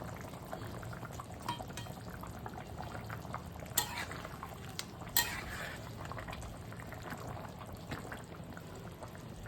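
Rice bubbles at a steady simmer in a pot on the stove next to a thin rohu fish broth, a continuous low boiling texture broken by a couple of brief sharp clinks near the middle.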